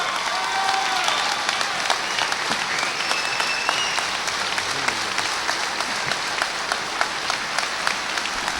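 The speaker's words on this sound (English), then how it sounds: "Give him a round of applause." An audience at a religious speech gives a sustained round of applause, dense steady clapping with scattered cheers and whistles, moderately loud throughout.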